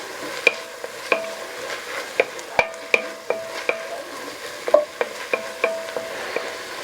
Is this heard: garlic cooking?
yes